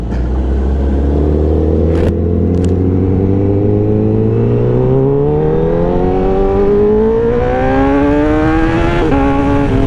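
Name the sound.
Honda CBR1000RR Fireblade 2020 motorcycle engine revving on ride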